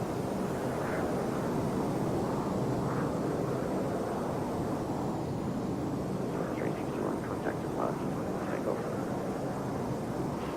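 A PMDG MD-11 airliner taking off in a flight simulator game, with a steady loud engine roar and broadband rumble holding throughout.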